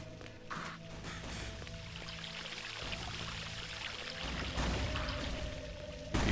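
A wall of water in Shadow Man Remastered pours steadily, a continuous rushing stream that grows slightly louder toward the end, alone with no talk.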